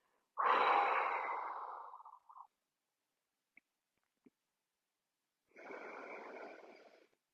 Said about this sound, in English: breathe in through your nose, a deeper, slower breath, but breathe out maybe through the mouth, like you're just blowing the breath out